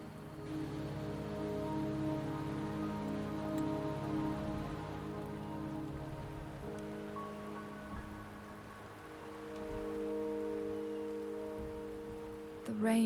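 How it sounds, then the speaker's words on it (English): Steady rain falls in the video game Wuthering Waves, a constant soft patter on surfaces that carries on under sustained tonal game music and ambience, swelling slightly and easing without pause. "The rain is subsiding, and the sky will soon clear."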